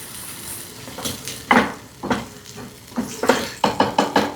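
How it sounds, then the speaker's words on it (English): A wooden spoon stirring pan-fried red snapper, producing scattered knocks and clacks against the pan that quicken into a rapid run of sharp taps near the end. "I need my wooden spoon. I'm gonna stir."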